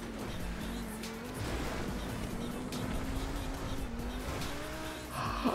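Cars racing in GTA V Online on a wallride course, a steady loud engine drone with rising and falling pitch, tire noise and a brief rough burst near the end.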